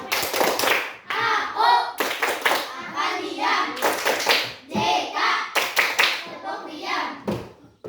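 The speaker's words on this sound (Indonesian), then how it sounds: "tepuk diam" Schoolchildren in a primary school classroom perform a rhythmic clapping routine, sharp bursts of hand claps in repeating patterns alternating with chanted words, lively and close throughout.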